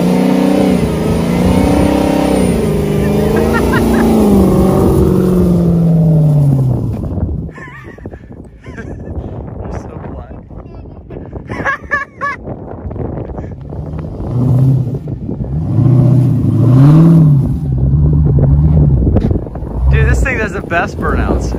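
A loud truck engine revs hard during a rolling burnout, the pitch rising and falling in surges close by, with wind buffeting and people shouting over it.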